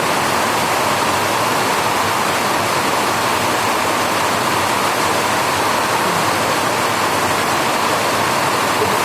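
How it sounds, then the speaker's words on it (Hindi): Rain falls outside a school auditorium as a steady, dense hiss with no pauses, loud and even, with no voices over it. "रेनिंग, बारिश हो रही है, शायद आवाज़ क्लियर ना आए"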